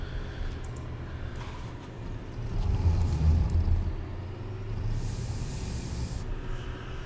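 A tractor drives in Farming Simulator 19: a steady low engine rumble with a hissy wash over it, swelling louder for a moment midway and then settling back, with no voices.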